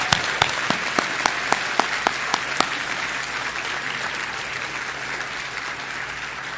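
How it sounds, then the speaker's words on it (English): An audience applauds at a Physician Assistant Studies white coat ceremony. Steady crowd clapping runs throughout, and one distinct nearby clapper beats out a quick regular rhythm over the first few seconds. "Family and friends, please join me in a round of applause"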